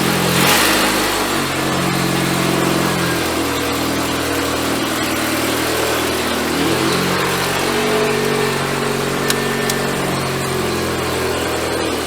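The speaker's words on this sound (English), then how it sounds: "Alright, so we're going out for a test drive." A Mazda FD RX-7 with a swapped engine out on a test drive, its loud engine droning steadily and rising and falling in pitch through gear changes.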